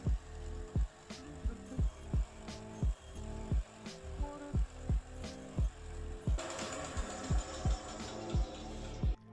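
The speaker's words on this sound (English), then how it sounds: "I decided to use my tabletop bandsaw to make it easier for me" A tabletop bandsaw cuts through pieces in a steady series of short, regular cutting passes, each a distinct thump over a continuous motor hum, close and moderately loud. Near the end a brighter, harsher whine takes over.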